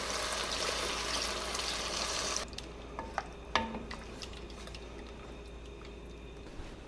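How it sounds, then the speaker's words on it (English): Four cups of vegetable broth pour into a pot for vegetarian Italian minestrone, a steady close rushing splash for about two seconds that stops abruptly, followed by faint clinks and stirring. "I'm going to add in 4 cups of vegetable broth."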